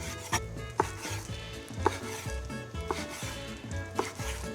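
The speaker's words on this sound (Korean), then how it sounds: "몸통 썰 때는 다리보다 좀 두껍게 썰어야 완성되고 나서 풍미가 좀 더 있더라고요." Knife chopping a squid body into fairly thick pieces on a cutting board for a Korean stir-fried squid dish, a steady series of close, crisp thuds of the blade on the board, with sharper strikes every second or so.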